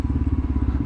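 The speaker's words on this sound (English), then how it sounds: "I've got a new exhaust. I don't know how well you guys can hear it." A Royal Enfield Himalayan motorcycle fitted with a Lextek OP-1 exhaust idles close by on a London street, its deep thumping exhaust pulses beating in a steady rapid rhythm.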